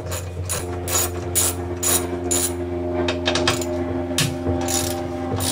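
A ratchet with a half-inch deep-well socket clicks rapidly in quick bursts while removing the bolt from a wheelbarrow wheel, close and fairly loud with no talking.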